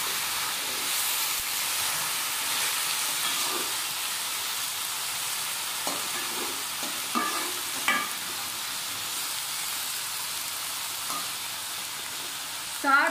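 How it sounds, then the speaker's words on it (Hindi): Onions, okra and green chillies fry in a pan with a steady, loud, continuous sizzling hiss, broken by occasional soft stirring scrapes and taps near the end. "अब प्याजों को और भिंडी को और ग्रीन चिल्ली को मैं फ्राई करती हूँ।"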